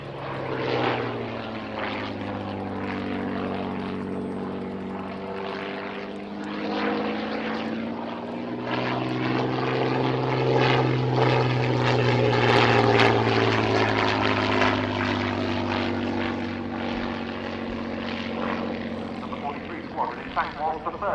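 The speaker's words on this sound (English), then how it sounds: "This Mark I has a 525 horsepower Rolls-Royce Kestrel supercharged V12 piston engine." Hawker Fury Mk I biplane with a 525 horsepower supercharged Rolls-Royce Kestrel V12 piston engine flying a display at an air show, a steady droning engine note that swells as it passes, with a voice talking over it throughout.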